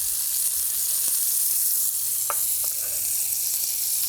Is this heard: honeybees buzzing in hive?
no